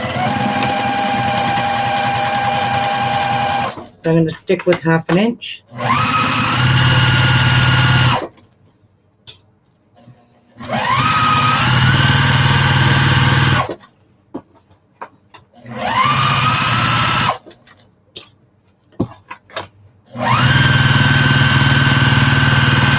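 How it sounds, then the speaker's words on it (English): Sewing machine stitching a half-inch seam on fabric for a fancy shopping bag, running in three or four steady motor bursts of a few seconds each with short pauses between, close and loud, with a brief spoken remark in a gap. "I am going to sew this at 1/2 inch"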